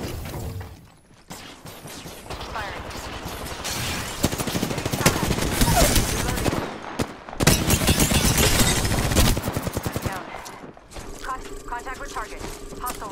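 Gunfire in the battle royale video game Apex Legends. Rapid automatic bursts crackle loudly for several seconds, broken by brief pauses, with game sounds and some voices mixed in.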